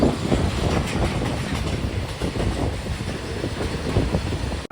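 A goods train hauled by a WAG electric locomotive passes close by, a loud, continuous rumble with rhythmic clickety-clack of wagons over the rails, and no voices.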